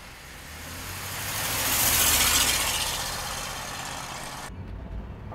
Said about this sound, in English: let's go for a ride in our little rotisserie restored 67 Camaro